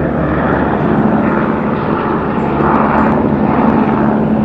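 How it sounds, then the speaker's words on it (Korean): A work helicopter flies near the Matterhorn in the Swiss Alps, its engine and rotor giving a loud, continuous droning roar that stays steady throughout with no speech. "작업용 헬리콥터가"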